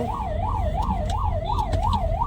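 A loud ambulance siren cycles up and down in a smooth, regular wail on a road from Delhi, heard close behind the vehicle over rumbling traffic, with a few clicks and brief tones layered in.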